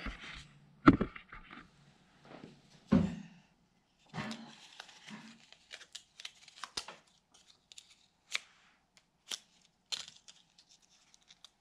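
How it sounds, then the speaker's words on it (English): A lab burner being lit and set up for evaporating a saturated solution: several sharp clicks and clatters, a brief soft whoosh, then scattered small knocks, all fairly close with quiet gaps between. "Let's take this now, put it on the burner, and we'll light this up."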